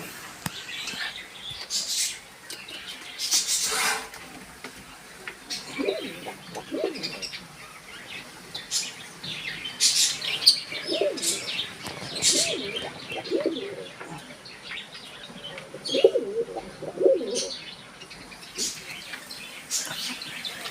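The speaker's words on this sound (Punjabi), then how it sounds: "ਆ ਪੰਛੀ ਆਪਣੇ ਵਿਚਾਰੇ ਜਿਹੜੇ ਸਸਤ ਹੋਏ ਪਏ" Sluggish pigeons in a damp loft after heavy rain coo in low, throaty phrases again and again, with small bird chirps scattered among them and steady outdoor ambience behind.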